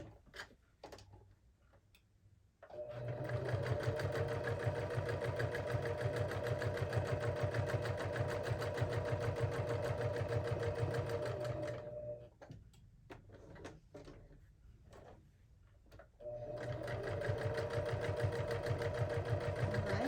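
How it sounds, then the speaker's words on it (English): A sewing machine top stitches a bag in two long steady runs of rapid, even mechanical whirring, each starting and stopping abruptly, with quiet handling taps in the pauses between them. "So I've got the nice top stitching on this side."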